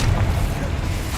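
A deep booming blast from the Confringo fire spell in Hogwarts Legacy, a single heavy low rumble filling the moment, short and loud with no talk.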